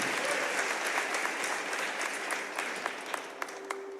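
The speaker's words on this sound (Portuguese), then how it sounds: "Pode aplaudir, querido, porque é fantástico." Audience applause following a sermon story about David and Goliath, a dense wash of many hands clapping at steady moderate volume, thinning slightly toward the end with a few distinct claps standing out.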